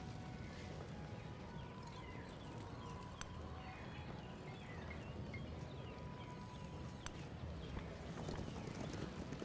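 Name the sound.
horses clip-clopping in Civilization video game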